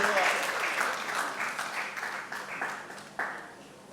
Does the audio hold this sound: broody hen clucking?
no